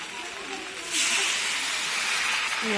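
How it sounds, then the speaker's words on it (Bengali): Hot water poured into a pan of jackfruit and prawn curry after the masala has been fried, setting off a sudden loud, steady hiss of steam and sizzle that carries on to the end. "গরম জল দিয়ে দিচ্ছি"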